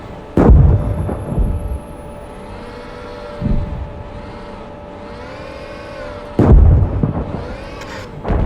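Tank cannon fire and explosions in the GHPC tank combat game, several heavy booms spaced a few seconds apart over a droning engine and whining turret hum, loud and close.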